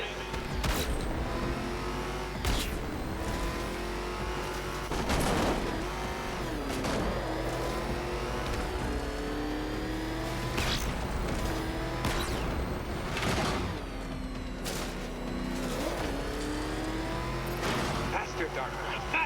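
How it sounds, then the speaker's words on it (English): Batmobile engine racing hard in Batman: Arkham Knight, a continuous roar with shifting revs and repeated sharp transients, running under a talking voice throughout. "Can that ramshackle motor handle this?"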